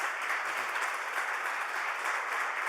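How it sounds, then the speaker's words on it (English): Audience at a JuliaCon conference session applauds the speakers, a steady, even wash of moderately loud clapping that holds for the whole stretch with no voices over it. "a round of applause for the speakers"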